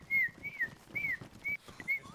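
A player in the video game DayZ whistles a short repeated pattern of about five clear, sliding notes, fairly close, with faint background movement underneath.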